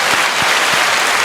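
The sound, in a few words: applause for the Banana Award winner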